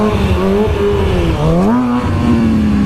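Motorbike engine revving hard for a wheelie on a road, a loud, continuous drone close by with pitch rising, dipping and climbing again as the throttle is worked.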